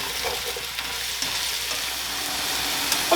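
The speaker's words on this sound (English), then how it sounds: "Throw a pound of sliced mushrooms in here with the onions and butter." Sliced mushrooms cooking with onions in butter give a steady, close sizzle and hiss in the pan, with occasional soft stirring sounds and no talking.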